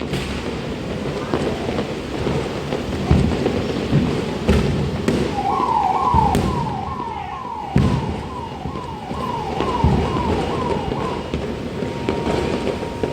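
Firecrackers burst along the beach at Puri on New Year, sending scattered dull bangs and thumps at a distance. A wavering siren-like tone runs through the middle.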